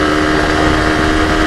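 A Honda Titan 160 motorcycle engine revving hard, a loud steady buzzing drone held close throughout the short stretch with a constant whine on top.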